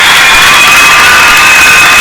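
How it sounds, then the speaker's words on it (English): A crowd at a high school basketball game in Germantown cheers near halftime, a loud, continuous roar of voices that never lets up across the moment. "And the crowd is pumped here in Germantown."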